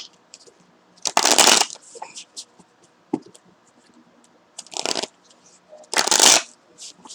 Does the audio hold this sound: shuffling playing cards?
yes